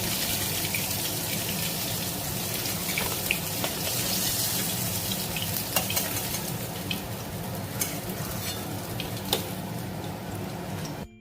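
Five-spice seeds and a dried red chili sizzle in hot hilsa fish oil, a loud, steady hiss of frying with scattered crackles and pops throughout.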